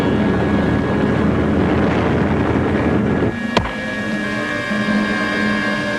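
WWII Allied bombers over Italy near the Anzio front, a steady, dense roar of many engines droning alone without speech, with a brief sharp knock partway through as the drone eases slightly.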